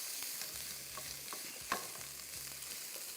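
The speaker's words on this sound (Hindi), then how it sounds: "लहसुन, थोड़ा सा अदरक और इन दोनों को करना है फ्राई" Garlic and a little ginger fry in a pan over high heat, giving a steady, soft sizzle with a few faint clicks of stirring and one brief sharp tap near the middle.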